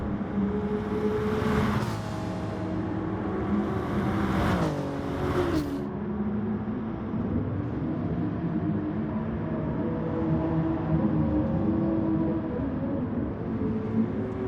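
GT-R race car engines roar in the video game Gran Turismo Sport during a manufacturer race, with loud sustained revving and pitch sweeps as gears change and cars close in, and no talking.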